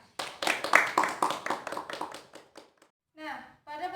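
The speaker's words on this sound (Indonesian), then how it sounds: "Beri aplaus untuk Dela." A classroom gives a brief burst of applause for a student, a cluster of quick claps up close that fades out within a couple of seconds, followed by a speaking voice.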